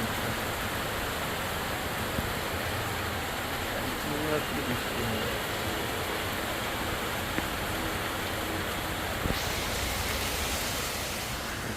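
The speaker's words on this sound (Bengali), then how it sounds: "হারে বৃষ্টি হচ্ছে বাবা কন্টিনিউয়াসলি প্রায় এক ঘন্টা হয়ে গেল এরকম বৃষ্টি চলছে" Continuous heavy rain makes an even, dense hiss that fills the whole stretch without pause, with a voice faintly underneath.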